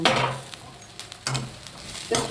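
Sambar in a pot is stirred with a spoon after the stove has been switched off, giving three soft scraping strokes spaced apart, with a faint leftover bubbling in between.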